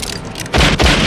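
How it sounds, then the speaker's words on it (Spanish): Gunshots in a Wild West gunfight: two loud, close booming reports half a second apart, each a sharp broadband crack with a short ringing tail, following a brief rumbling lead-in. "El estruendo de los disparos se sucede sin tregua."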